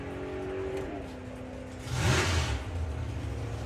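A drag racing car with a totally new engine combination, heard as a steady low rumble that swells into a loud, broad roar around the midpoint and then settles, with no talk over it.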